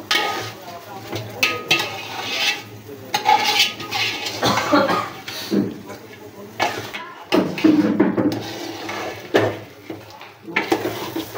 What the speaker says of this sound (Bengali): এখন মাংসের সাথে ভালোভাবে একটু নেড়েচেড়ে কষিয়ে নিতে হবে